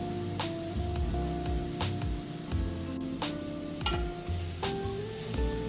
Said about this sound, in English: Just quickly coming over here and mixing a little, just to make sure, again, the meat doesn't burn